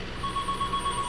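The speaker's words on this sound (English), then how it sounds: "Oh, that's my phone call." A phone rings with an incoming call, a steady electronic pulsing tone repeating rapidly at moderate volume over a constant background hum.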